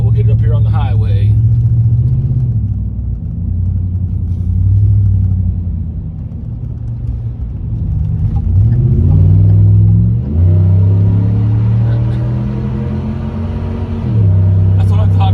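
A 2011 Ford SVT Raptor pickup engine rumbles and accelerates through several gear shifts on a highway, pitch climbing and dropping, with brief talk at the start.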